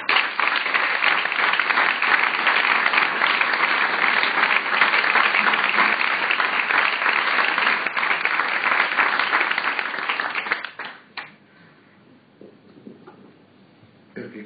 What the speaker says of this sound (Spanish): Pido un gran aplauso para ellos.